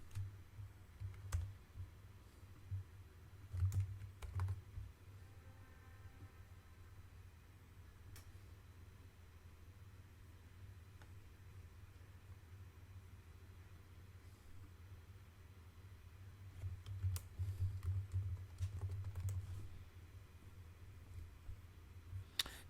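A computer keyboard is typed on in short quiet bursts of clicks at the start and again near the end, with a long stretch of low background hum in between.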